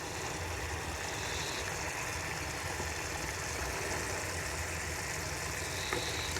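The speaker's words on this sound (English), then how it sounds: "So I'm just going to let that simmer for a few minutes while those flavours infuse." A broth of lemongrass, chilli and galangal simmers in a pot, giving a soft, even, continuous bubbling hiss that stays faint and unchanging throughout.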